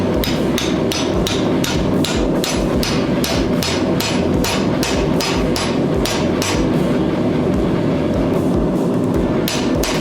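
Hot steel is hammered at a blacksmith's vise to shear it down the middle while forge welding, a loud rapid series of ringing metal blows struck at a steady, even pace.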